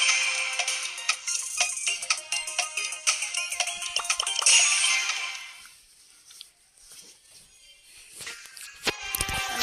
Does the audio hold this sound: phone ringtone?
yes